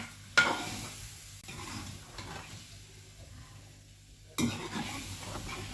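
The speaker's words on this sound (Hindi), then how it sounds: "इसको अच्छे से भून लेते हैं।" Egg korma masala with yogurt cooking slowly over low heat in a pan, a soft steady sizzle broken by two louder spoon scrapes, one near the start and one near the end.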